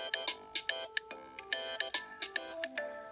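Bright, chiming electronic alarm tone from an iPad clock app, a quick repeating melodic pattern of short bell-like notes, fairly quiet and heard alone.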